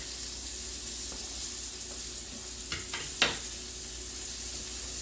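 Garlic butter chicken frying in a pan with wine, a steady bright sizzle running throughout, with a few short sharper bursts near the end as liquid hits the hot pan.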